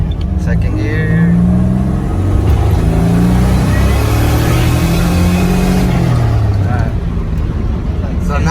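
Turbocharged Nissan Z31 engine accelerating hard in second gear, a loud rising engine roar heard from inside the car with voices talking over it.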